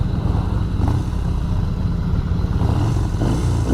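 A 2020 Yamaha Bolt R-Spec cruiser motorcycle engine runs close by with a steady, deep, throaty rumble, rising slightly in a few brief revs. There is no talking.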